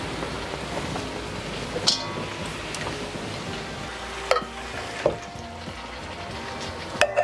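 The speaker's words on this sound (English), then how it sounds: "Mom always starts with sauteing the ginger, then she adds this fermented stuff" Ginger sautés in a pot for Buddha's Delight, a steady close crackling sizzle with scattered sharp ticks and spatters, no talking.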